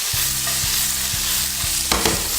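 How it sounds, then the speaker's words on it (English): Chopped onions and thyme sauté in a hot pan with a steady, close sizzle, while a utensil stirs through them in a few regular scraping strokes. "And now we're just gonna saute this for a couple minutes."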